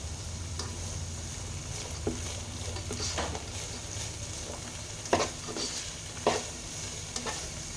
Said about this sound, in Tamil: இதெல்லாம் நல்லா ஃப்ரை பண்ணிக்கணும்.